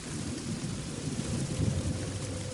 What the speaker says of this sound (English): listening to the violent wind howling outside and the heavy rain crashing against the wooden walls